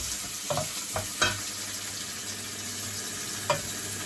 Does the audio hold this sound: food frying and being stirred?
yes